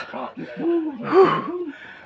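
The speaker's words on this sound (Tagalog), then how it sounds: "Hingal." Heavy breathing from someone climbing a steep mountain trail, a series of rising and falling voiced gasps and pants, close and fairly loud.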